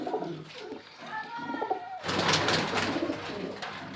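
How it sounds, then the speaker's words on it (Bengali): Pigeons in a home loft coo in soft, low throaty calls, with a fuller, louder burst of cooing and fluttering in the second half, close by. "এই সময় ডিমে আছে পায়রাটা"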